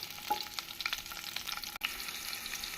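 Steady crackling sizzle of garlic and onion frying in hot oil, close up, with occasional sharper pops and stirring.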